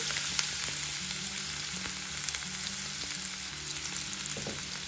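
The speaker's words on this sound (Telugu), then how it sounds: "ఆయిల్ వేడయ్యాక ఇలా 2 ఉల్లిపాయల్ని సన్నగా తరుక్కుని ఇప్పుడు ఈ ఆయిల్లో వేసుకోవాలి." Two thinly sliced onions sizzle steadily in hot oil in a pan while a masala egg fry is being made, a close, continuous frying hiss with small crackles and no talking.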